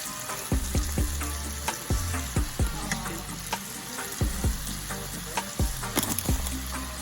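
Garlic butter shrimp fry in a hot pan, hissing steadily while a utensil stirs and taps with sharp intermittent clinks, and faint music plays underneath.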